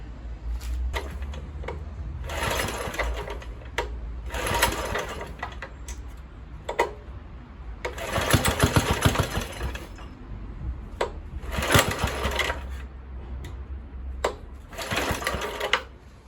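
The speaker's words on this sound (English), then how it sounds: "Maybe I'll post a bit of this engine running" An Atco lawn mower's Kohler K101 engine with a Walbro carburettor fires in uneven, rattling bursts. It surges and drops back repeatedly, close by, between short quieter gaps.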